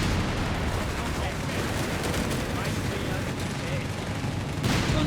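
Mortar and gunfire in the real-time strategy game Company of Heroes 3, a dense, continuous wash of battle noise with steady rumbling blasts and crackling shots throughout.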